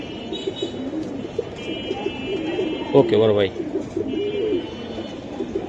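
Silver Giribaz racing pigeons coo nearby in soft repeated calls, one clearer coo rising midway, under ongoing conversation between men.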